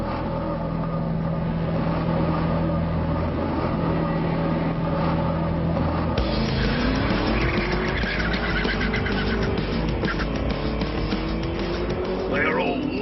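A Vauxhall VXR8 with a six-litre V8 accelerates hard, its loud engine note climbing steadily through the revs over a constant rushing roar.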